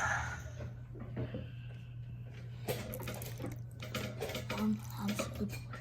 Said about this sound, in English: you gotta pour the water just over the rocks